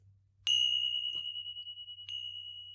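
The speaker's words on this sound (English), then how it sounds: "then you'll hear the sound of my tincture bells, which sound like this." Tincture bells are struck twice, each a bright, clear ding that rings out with a long, slowly fading shimmer, alone against a quiet low hum.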